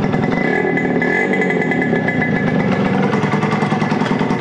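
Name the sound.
Yamaha RD50 motorcycle engine revving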